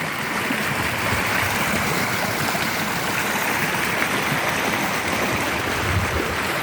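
Swirling, rushing water in a gully, the Cossack Mandryka ravine, a loud, continuous broadband roar that stays steady and close, with no voices.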